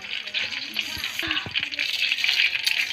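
Fenugreek seeds crackle and sizzle in hot oil as the first step of a Tamil kara kuzhambu, a close, steady frying hiss broken by a few sharp pops and a stir or two.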